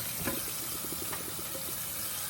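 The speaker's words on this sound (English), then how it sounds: "I'm draining the pasta right now" Hot water pours steadily as cooked macaroni drains in a kitchen, a continuous close rushing gush with a faint splashing texture and no talking.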